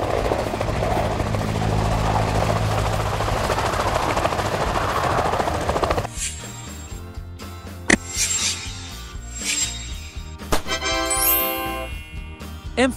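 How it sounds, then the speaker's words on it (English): Attack helicopter flying, its loud steady rotor and engine roar filling the first six seconds before cutting to quieter scattered metallic jingles and tones. "Attack Helicopter."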